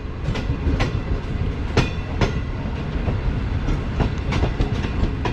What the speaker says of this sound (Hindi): तो ये एक ट्रेन आ रही है हमारे पास डाउन में